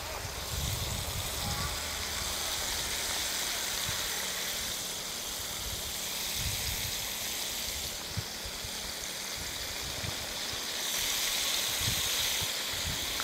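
Fish frying in hot oil in a Thai home kitchen, a steady broadband sizzle and hiss that runs unbroken and fairly loud, with a few low bumps and no talking.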